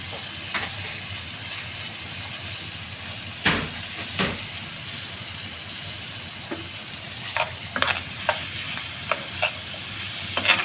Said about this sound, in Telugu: ఇప్పుడైతే కట్ చేసి పెట్టుకున్న టమాటా ముక్కలు అయితే వేసుకున్నాము